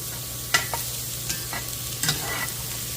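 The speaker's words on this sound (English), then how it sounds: "I'm going to get that sauteed just a little bit longer" Vegetables sautéing in a pan for a meatless white bean chili, a low steady sizzle broken by a few sharp clinks and scrapes of stirring, close and alone without talk.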